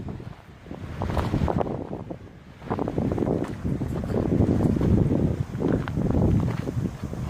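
Strong coastal wind in Brittany buffets the microphone in heavy, gusting waves, loud and rumbling, with possible surf beneath.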